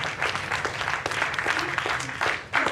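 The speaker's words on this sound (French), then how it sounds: "Ça ne me dérange pas quand vous applaudissez" An audience applauds at a community gathering, steady mid-level clapping with a few sharper claps standing out, continuing for nearly three seconds.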